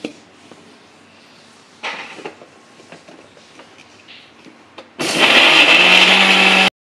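A blender grinds chutney for a cheese paneer sandwich: a few quiet clicks and handling knocks, then a loud, steady whirring burst lasting under two seconds before it cuts off abruptly.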